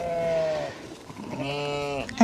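Sheep and lambs bleat on a farm, two loud nearby calls in succession, the second longer and wavering, with no speech over them.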